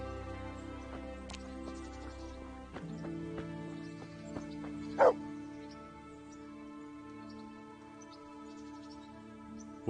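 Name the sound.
dog Mutt barking, from video game Kingdom Come Deliverance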